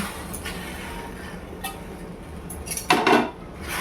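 Spinach being stirred in salted hot water in a cooking pot, giving a few faint scattered metallic clinks of a utensil against the pot and one louder scraping clatter near the end, with no talking.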